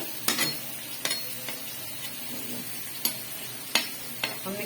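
Onion, ginger, garlic, potatoes and carrots fry in a pot for mixed vegetable rice with a quiet steady sizzle, punctuated by a series of sharp spoon knocks against the pot as they are stirred.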